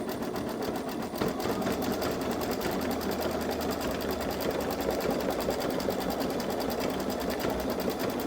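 A Babylock Solaris 3 embroidery machine stitching an in-the-hoop design runs with a steady, fast mechanical rhythm, loud and continuous throughout with no talk.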